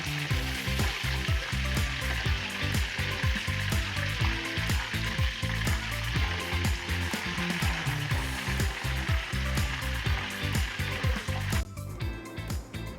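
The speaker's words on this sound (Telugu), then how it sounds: "నూనె గరం అయినాక మిడ్ ఫ్లేమ్ పెట్టుకొని అందులో ఇంతకుముందు మ్యారినేట్ చేసుకున్న మిల్ మేకర్ వేయండి" Marinated soya chunks, or meal maker, sizzle and crackle in hot oil over a medium flame, a close, continuous frying with steady popping and occasional stirring.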